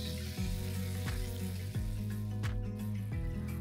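Sauce sizzling on grilled tofu mochi in a pan, a soft hissing crackle running beneath a louder rhythmic background music track with a regular beat.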